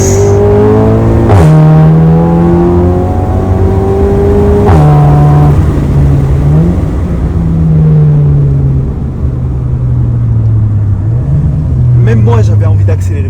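A stage 2+ Volkswagen Golf GTI accelerates hard through the gears, engine pitch climbing and dropping at each shift in a loud, close run. Voices talk over the engine.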